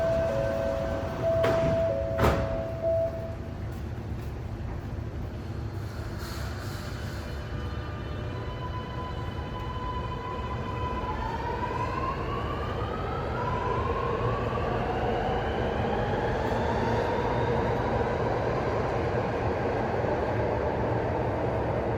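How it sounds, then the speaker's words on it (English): An Alstom Metropolis metro train stands with its doors closing: a short warning chime, then a steady rumbling hum and a rising whine as the train starts to pull away, with no one speaking. "Train doors closing."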